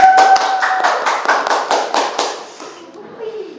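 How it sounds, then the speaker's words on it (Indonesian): Handful of people clapping for two guests at a student talk show, a short burst of loud, close, fairly even claps that fades out after about two and a half seconds, with faint voices at the end. "Tepuk tangan buat mereka berdua."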